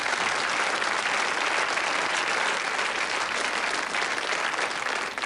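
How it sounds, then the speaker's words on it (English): Studio audience applauding on a televised quiz show, a steady, dense wash of clapping that holds evenly loud for about five seconds before easing off slightly at the end. "But a round of applause anyway."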